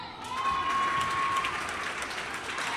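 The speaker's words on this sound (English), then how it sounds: "you can hear the crowd is really cheering for Beauty Swish." A basketball crowd at a spring carnival tournament in Shishmaref cheers and applauds in a continuous, loud roar filling the indoor space, with a brief whistle tone early on.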